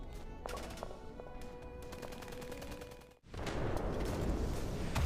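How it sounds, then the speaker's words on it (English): A video game firefight erupts in dense, continuous gunfire, with bursts and cracks of bullets whizzing past close by, loud after a brief quieter stretch. "Countless bullets whiz past our heads as I take cover."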